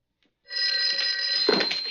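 An office telephone rings out loud and close, a sustained bright bell tone that starts suddenly after a brief silence and continues with no speech.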